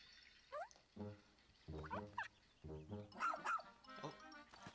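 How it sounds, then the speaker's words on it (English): A dog barks a few times in a Nintendo Direct trailer, short yappy barks broken up by bursts of music and other game sounds, fairly quiet overall. "oh, dog."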